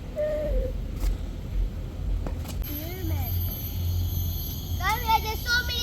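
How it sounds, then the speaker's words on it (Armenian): Natural birds and insects in a Singapore nature park, calling in thin rising and falling chirps and whistles against a constant low hum of ambient noise, the calls clustered in short bursts and faint voices present. "այս է արհեստական չի, բնական թռչունների ձայները,"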